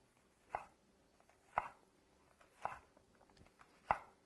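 A knife cuts through peaches on a board in four separate crisp strokes, evenly spaced about a second apart, close and clear against a quiet background.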